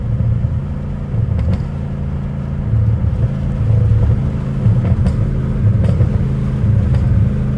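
A straight-piped Dodge Challenger Hellcat Redeye's loud, deep engine rumbles and idles with swells of revving, faint high clicks and supercharger whine riding over the steady low drone.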